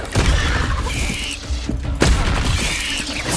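Confringo explosive spell blasts in the Hogwarts Legacy video game, several sharp booming hits with a crisp crack at about two seconds, mixed with whooshing spell effects and clattering debris, loud and close.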